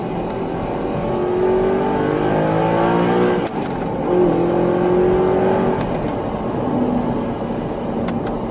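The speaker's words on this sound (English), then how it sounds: "So I'm going to have to blip the throttle myself." Manual Audi R8 engine revving with throttle blips, a loud, close engine note rising in pitch across two pulls, with a brief dip between them.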